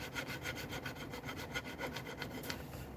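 Needle file strokes on a workpiece during finishing, a steady series of rhythmic rasping scrapes, about a dozen evenly spaced passes, close and moderately quiet with no talk.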